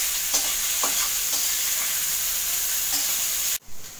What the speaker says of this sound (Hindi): प्याज को लाइट ब्राउन होने तक भूनेंगे